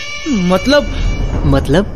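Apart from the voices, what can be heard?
cat meowing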